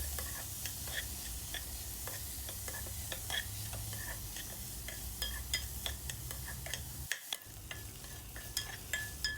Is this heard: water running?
no